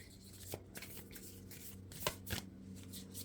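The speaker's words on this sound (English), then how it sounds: "And I try to overhand shuffle them" Brand-new tarot cards are overhand shuffled by hand, giving soft papery riffles and flicks with a few sharper slaps, close and quiet with no talking.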